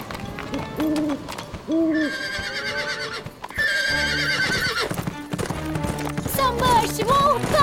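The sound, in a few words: owl hooting in a cartoon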